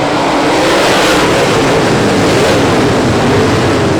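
American Modified Series race cars at Brownstown Speedway roar loudly and continuously as they accelerate from a restart, a dense wash of engine noise with no voices.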